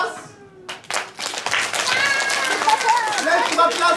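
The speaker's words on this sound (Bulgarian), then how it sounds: "Първо пляскаме за вас." Audience clapping at a Christmas party, starting after a brief quieter moment and swelling into continuous dense applause, with excited young voices shouting over it.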